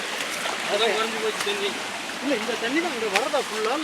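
Steady rushing water from a waterfall and flowing stream close by runs throughout while someone talks over it at moderate volume.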